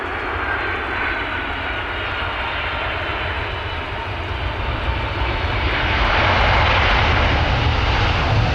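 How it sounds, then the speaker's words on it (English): An airliner from Seoul lands at London Stansted Airport with reverse thrust engaged. A loud, continuous engine roar swells toward the end, heard outdoors from the spotting area, with no talking. "Reverse thrusters. Look at that."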